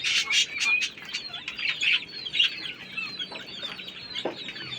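Small king quail birds on a farm give a steady stream of high chirps, clucks and calls from several birds at once, close and fairly loud, with no talk.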